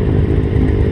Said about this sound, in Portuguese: É a Fireblade do Bruno.